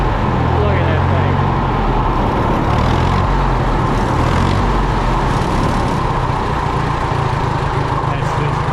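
A 75-year-old JI Case LA tractor engine runs steadily at close range, a loud continuous rumble with heavy low-end chug that persists throughout, with people talking over it.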